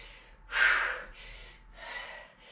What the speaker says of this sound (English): Are you breathing heavy like me?